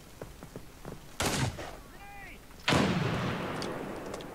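Two loud gunshots crack out in America's Army: Proving Grounds, the second followed by a long booming tail, with faint game noises and clicks in between.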